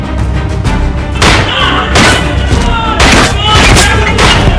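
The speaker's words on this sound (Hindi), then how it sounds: "तंग गलियों में गोलियों की तड़तड़ाहट" Rattling bursts of gunfire echo through narrow lanes, with loud, sharp cracks arriving in clustered volleys separated by short gaps, close and harsh.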